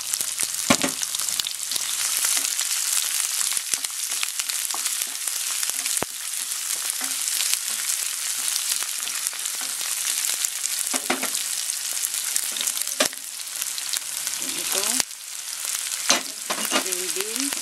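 Garlic and onion fry in a pan with a continuous bright sizzle, broken by occasional scrapes and stirring knocks, for Filipino lumpiang togue.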